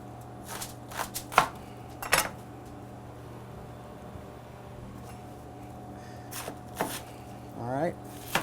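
A knife chops purple and green cabbage on a cutting board in a kitchen, a few quick, close cuts in small clusters over a steady fan hum, with a brief voice near the end.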